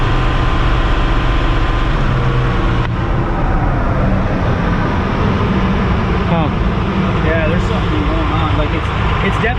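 Old 12-valve Ford truck diesel roaring under full throttle on a dyno, a loud, dense, rough engine noise across the whole stretch with voices talking over it in the later part.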